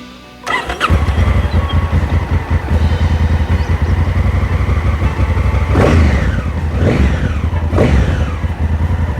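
A Honda Africa Twin CRF1000L DCT motorcycle with a 270-degree firing angle starts up and idles loudly and close, then revs sharply three times near the end, with no talking.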